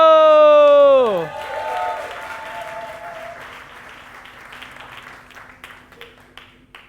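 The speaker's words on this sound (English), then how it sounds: "Give a big warm applause to Invicto!" A startup demo day audience applauds to welcome the next team onstage, a dense clapping burst swelling under an announcer's drawn-out voice, then thinning into scattered claps.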